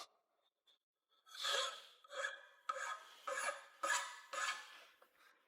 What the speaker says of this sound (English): try to get as close to the vise as possible when you're filing these things